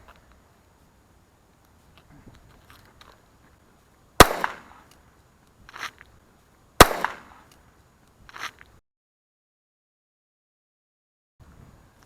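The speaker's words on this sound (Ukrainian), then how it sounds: "ви бачите, наскільки гучний постріл" Two sharp, loud shots from a blank-firing Ekol Major starter pistol crack a few seconds apart, each followed by a smaller echo, with quiet stretches around them.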